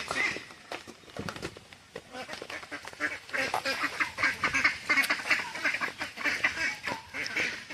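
Ducks quack busily and continuously close by while being fed a rice and soybean meal mix in rainy weather, a noisy flock chattering over one another, with a person speaking underneath.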